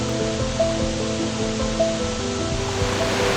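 Hengifoss, Iceland's 420-foot waterfall plunging past basalt and red clay layers, roars as a steady, dense broadband rush of falling water, even and continuous throughout with no voices.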